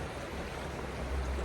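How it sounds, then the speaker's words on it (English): Water in a river riffle flows over stones, a steady broadband rush that fills the clip, close and even in level, with no voices over it. "you have a little riffle right here that flows over."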